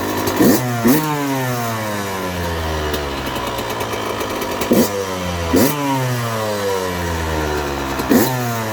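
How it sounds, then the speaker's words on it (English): A warm Yamaha YZ 125 two-stroke motorcycle engine idles with a buzzy note, then is revved in several sharp bursts that rise and fall back, loud and close, with no talking. "Let it idle for a while. Nice and warm. Let's give it a little rev."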